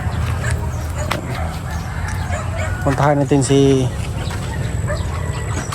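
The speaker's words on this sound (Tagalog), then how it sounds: "Yung mga manok ko" Backyard chickens in a rural province cluck in a short burst of nearby calls, with a dog yipping nearby and someone talking over the scene.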